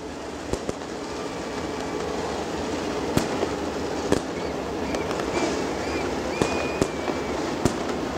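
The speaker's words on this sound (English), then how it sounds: "They're keeping them four wide for you as the fireworks continue to go off here." Fireworks burst over a late-model stock car speedway, sharp bangs and crackles popping irregularly across a steady roar of racing engines, with several loud reports standing out near and distinct.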